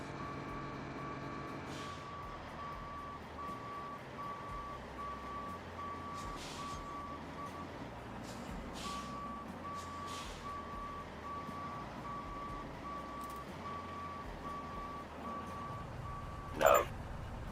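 Reversing beeps from a truck in a co-op construction video game, a steady intermittent tone sounding in two long runs over continuous low engine rumble, with a brief sharp bang near the end.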